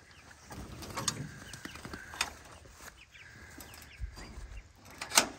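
Cornish Cross chickens moved into a chicken tractor on grass cluck and peep quietly and intermittently, with soft scattered rustling in between.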